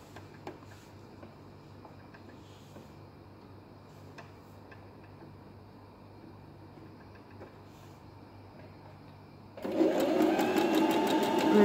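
A sewing machine begins stitching after a quiet stretch, its motor whirring loudly and steadily for the last couple of seconds; before that only faint ticking and low background hum are present.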